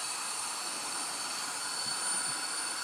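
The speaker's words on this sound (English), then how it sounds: "Alright, the air blower is fully charged." A Jet Dryer Blower Air Duster runs continuously, producing a steady, loud, whooshing jet-like roar with a high whine, unchanging for the whole stretch.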